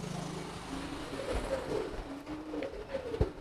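Pigeon sitting on its eggs in the nest, giving low, soft coos several times over a steady background hum, with a sharp knock near the end.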